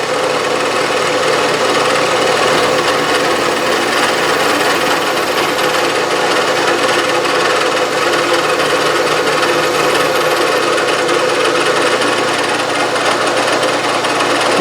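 A Bridgeport milling machine cuts slots in metal while feeding along the y-axis, producing a steady, loud, continuous grinding rasp that holds evenly throughout with no talking.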